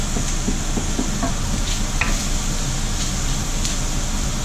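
Fried rice with ham sizzles in a pan, a steady close hiss with a few soft clinks and scrapes of stirring, no talking over it.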